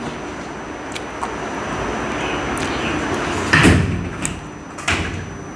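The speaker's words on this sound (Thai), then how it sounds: "ปิดประตูให้แม่ด้วยลูก" A door inside a home is pushed shut with one solid thud, followed by a softer knock about a second later, over steady room noise.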